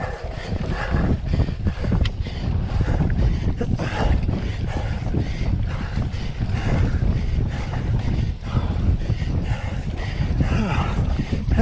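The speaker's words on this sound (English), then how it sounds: "That wind's a doozy." Heavy wind buffeting a microphone during a men's race, a loud, continuous low rumble with gusting roar and fluttering that persists throughout, with no talk over it.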